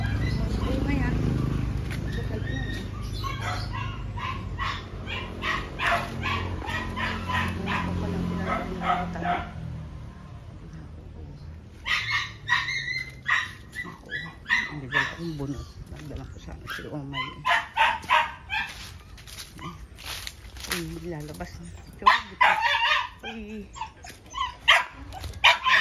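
After a storm, a dog barks and yips in a string of short outbursts, fairly close, mixed with whimpering, while people talk over and between the barks.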